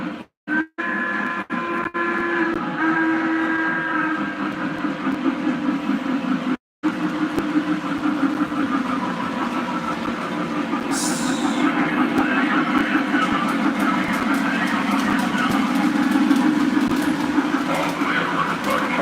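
A diesel locomotive engine in a video game, a Train Master, drones and rumbles steadily for a long stretch, with someone talking over it.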